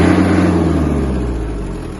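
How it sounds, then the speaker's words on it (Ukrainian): A Kubota X-20 compact tractor's small engine runs steadily and close, its low rumble easing slightly as it idles down, with no voices. "До речі, працює двигун досить чисто"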